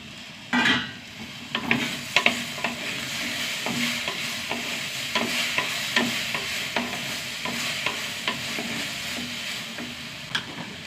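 Okra and ripe tomatoes sizzle steadily in a hot pan while a spoon stirs them, its clinks and scrapes recurring at irregular intervals over the continuous frying hiss.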